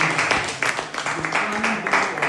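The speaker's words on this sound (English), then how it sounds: "Please a round of applause for him." A conference audience in Ipswich claps in a moderate, scattered round, and voices can be heard under the clapping.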